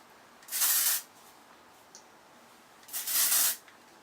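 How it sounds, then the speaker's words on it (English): Two bursts of texturizing hair spray aimed at the hair roots, each about half a second, separated by a pause, close and fairly loud over a faint background. "So I'm just going to spray this at kind of the roots a little bit."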